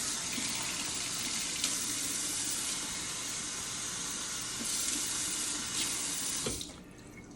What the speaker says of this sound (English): And I've put hot water on top of it.